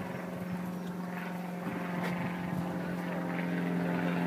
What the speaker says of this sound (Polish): I samolot leci, proszę bardzo, jakiś, jakaś Cessna albo jakiś prywatny samolocik